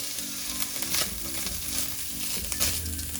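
Carrots stir-frying in a hot pan for hot and sour soup, a constant close sizzle with a few scraping stirs over it, no talk.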